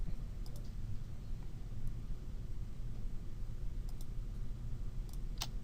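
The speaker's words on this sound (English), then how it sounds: "Okay, so I'm just clicking, clicking." Soft, sparse mouse clicks while drawing with the pen tool in design software: a few faint, isolated clicks spread over a steady background hiss, with no voice.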